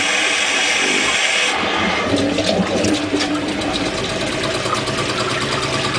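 A faucet-driven hydroelectric turbine generator runs steadily, its water rush and whirring spin building into a loud continuous roar that holds for the rest of the clip.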